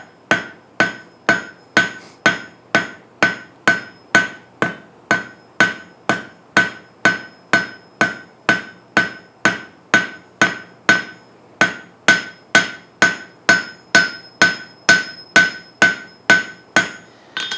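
A hammer forging and spreading hot steel for a candle holder, striking in a steady, even rhythm of about two blows per second, loud and close, with bright ringing impacts and no talk.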